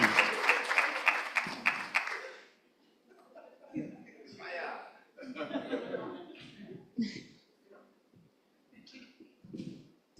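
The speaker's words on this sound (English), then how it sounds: "Round of applause for you, please." Conference audience at the African Economic Conference breaks into a short burst of dense clapping, which fades after about a second and a half into chuckles, laughter and scattered talk.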